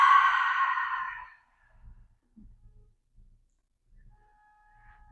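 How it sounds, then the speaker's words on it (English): One long, audible breath lasting just over a second during a yoga stretch session, soft and close, followed by near silence with faint low thumps and a brief tone at the end. "let's breathe in through the nose and exhale out through the mouth"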